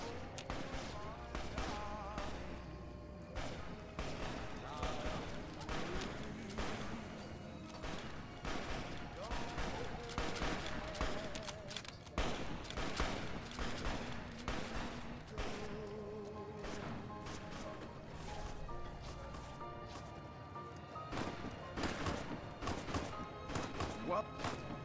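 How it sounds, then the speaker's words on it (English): Repeated gunfire from the Fallout: New Vegas video game, a dense run of sharp shots and thuds mixed with game music and voices throughout. "Draw a weapon and we will fire."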